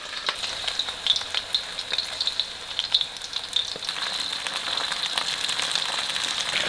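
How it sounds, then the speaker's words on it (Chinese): Chicken pieces dropped one by one into hot oil in a pan set up a loud, steady sizzle with sharp crackles and spatters popping close by throughout. "差不多油热了，下鸡块。"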